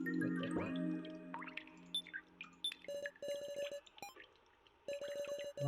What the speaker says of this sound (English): Why dripping water or cave noises?